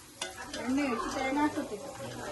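Onion and coconut pieces frying in hot oil in a pan for a curry, a close, steady sizzle with stirring scrapes, and faint voices murmuring underneath.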